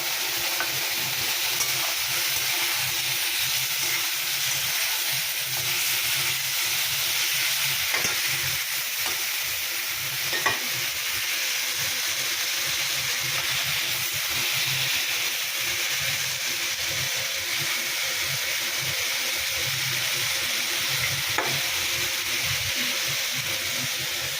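Spice paste for a catfish curry fries and is stirred in a pan, producing a continuous loud sizzle broken by repeated scraping and clinking of the spoon, with no one speaking.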